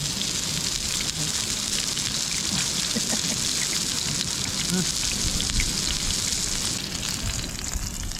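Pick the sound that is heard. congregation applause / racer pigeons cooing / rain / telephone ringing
rain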